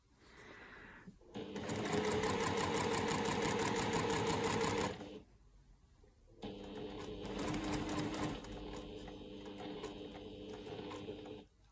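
A sewing machine stitches a quilt block, running in two long bursts of rapid, steady needle clatter with a brief pause between them, close and alone.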